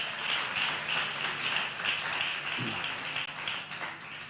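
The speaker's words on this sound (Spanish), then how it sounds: "dar un aplauso a Dios" A church congregation claps in praise to God, a steady wash of applause under a persistent high tone, moderately loud and continuous.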